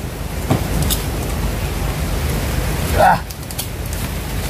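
Rain falls steadily outdoors as a broad, even hiss, fairly loud and near, with a brief swell of other noise partway through.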